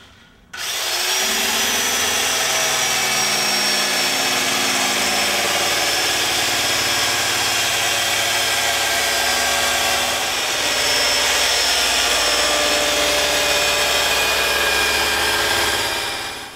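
A power tool whirs loudly and steadily for the whole stretch while finishing a snowboard, starting abruptly after a brief quiet moment, with a slight rise in pitch midway.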